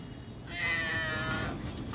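A cat gives a single drawn-out meow at close range, rising in the middle of a two-second stretch over quiet room tone, with no talking.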